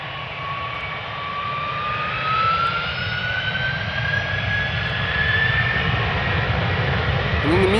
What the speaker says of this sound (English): Delta Airlines flight 163 going to Minneapolis, Minnesota, A330-300.